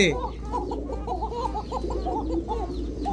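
Arabian pigeons cooing, a run of repeated throaty calls close by, with a low steady hum underneath and no talking.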